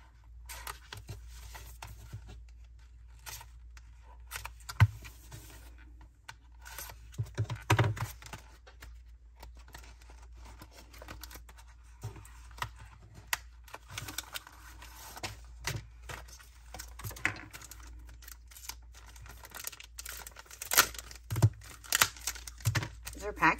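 Plastic wrapping on a pack of craft cards for junk journaling is crinkled and torn open up close, in a long run of soft, irregular rustles and crackles with a few sharper snaps and a faint voice now and then.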